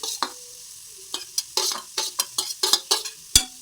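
Carrots frying with onion and mustard seeds, heard as a string of short stirring scrapes and sharp crackles over a faint sizzle, ending in one louder clack.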